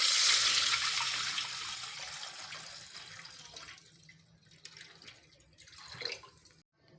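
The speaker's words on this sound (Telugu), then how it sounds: "ఇప్పుడు ఇందులో మనం ఎసరు పోద్దామండి" Water poured into a cooking pot for egg dum biryani, a loud steady gush at first that thins and trails off into lighter splashing and dribbles.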